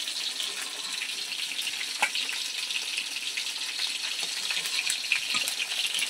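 Rupchanda fish fry in hot oil, a soft continuous sizzle and crackle at moderate distance with a few faint scraping knocks.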